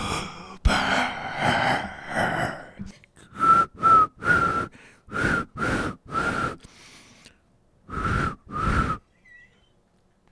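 A person whistles a short tune of clear, repeated notes in distinct bursts, following a louder stretch of mixed sound at the start, in a comedic underwear commercial skit.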